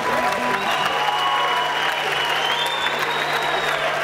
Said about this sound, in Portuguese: Salve de palmas para ti.